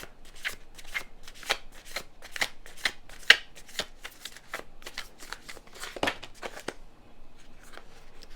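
Tarot cards are shuffled by hand in a steady run of crisp riffling flutters, close and fairly quiet, with no speech.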